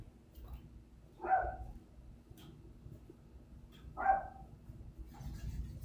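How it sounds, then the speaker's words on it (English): A dog barks twice, with a few seconds between the two sharp, fairly close barks over a low, steady background rumble; no one speaks. "He just gets a bunch of energy and wants to go out and bark."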